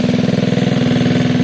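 A Gilera DNA 125cc fuel-injected scooter engine running loud and close, with a fast, even, pulsing exhaust note and slight rhythmic unevenness as it idles, with no talk over it.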